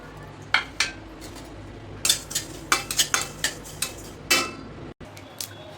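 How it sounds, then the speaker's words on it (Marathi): Sesame seeds being dry-roasted and stirred in a pan for homemade onion-garlic masala. A spoon scrapes and clinks against the metal in irregular strokes over a quiet background. "तर आता भाजायचे तीळ."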